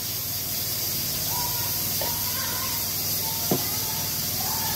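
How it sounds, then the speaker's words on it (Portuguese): A pressure cooker cooking beans hisses steadily and loudly throughout, a constant rushing steam sound with faint whistling tones over it. "E o barulho aqui da panela de pressão já cozinhando o feijão."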